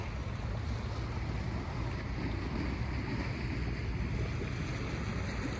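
Rough sea waves surge around a small fishing boat offshore, a steady, loud, broadband wash blended with gusting wind noise on the microphone, with no talking.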